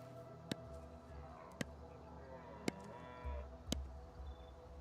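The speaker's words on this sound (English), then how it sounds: "Let's get closer so you can hear the sound of a deer." Deer in the video game Pax Dei gives low, cow-like moaning calls over a quiet game ambience, with four sharp clicks spaced evenly across the scene.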